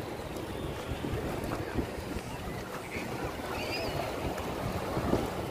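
Waves and wind at a crowded Piçarras beach in Santa Catarina on a summer weekend, a steady broadband wash of surf with gusty wind buffeting the microphone, moderately loud and continuous throughout.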